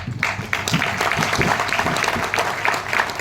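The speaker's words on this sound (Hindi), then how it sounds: "एक बार फिर बोल के जोरदार तालियां।" Loud applause from a seminar audience in Ahmedabad, Gujarat, dense, close-sounding clapping that keeps an even level across the short stretch, with some crowd noise underneath.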